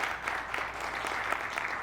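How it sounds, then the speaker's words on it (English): Brief burst of audience applause at a film festival's center stage event, dense even clapping from a room full of people, lasting under two seconds. "Let's give them a round of applause."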